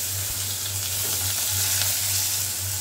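Chopped onions sizzling in hot oil with whole cumin, cardamom, cinnamon and cloves, a steady close frying hiss with a low hum underneath and no talk.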